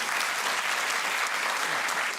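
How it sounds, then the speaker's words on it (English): Lecture audience applauding steadily after a talk on the future of war, a dense continuous wash of many hands clapping at even loudness throughout, with no speech over it. "please give a warm applause once more"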